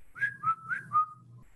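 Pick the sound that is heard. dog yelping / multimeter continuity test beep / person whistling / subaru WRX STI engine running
person whistling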